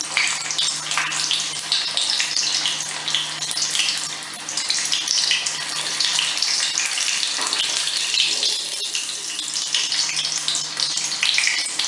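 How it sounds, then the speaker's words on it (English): A stuffed potato coated in corn flour fries in hot oil, a sustained crackling sizzle with dense bubbling that stays steady, with no one speaking. "I'll drop it carefully in the hot oil"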